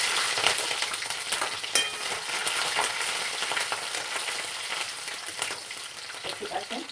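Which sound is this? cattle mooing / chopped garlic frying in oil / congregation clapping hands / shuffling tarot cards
chopped garlic frying in oil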